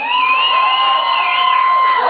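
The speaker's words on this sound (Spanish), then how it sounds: "fuerte el aplauso" Loud crowd at a live band show in Salinas, California, cheering and shouting with a sustained high-pitched whoop held steadily over the whole stretch, close and continuous.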